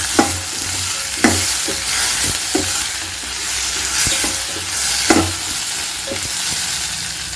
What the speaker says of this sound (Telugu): గొమ్మిడి చేపలు వేసి ఒక ఫైవ్ మినిట్స్ మగ్గనిద్దాం ఒకసారి కలిపేసి